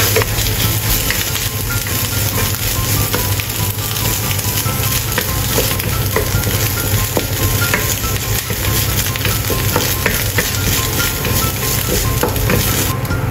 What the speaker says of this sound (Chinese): 炒香姜末， 下咸蛋一起炒，